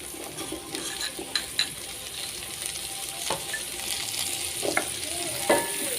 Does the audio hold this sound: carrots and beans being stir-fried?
yes